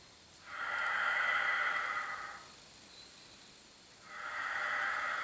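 Deep thoracic breathing during a Pilates floor exercise: a long, steady breath lasting about two seconds, a pause, then the next breath beginning, soft and close with no talk.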